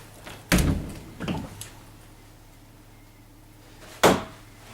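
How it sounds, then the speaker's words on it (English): Swinging closet doors in a rental town home bump and thud: two knocks close together, then a pause, then a final firm close, near and alone. "You have a closet here with full swinging doors."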